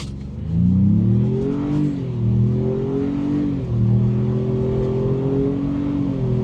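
A 2024 Ford Bronco Big Bend engine revs up hard in sport mode and climbs in pitch through several gear shifts, close and loud, the tone rising and dropping with each change.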